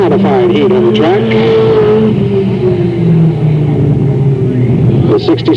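Super 4 modified race cars roar around the Delta Speedway oval in a heat, engines droning loud and steady with shifting pitch as they pass, with a voice announcing over the PA.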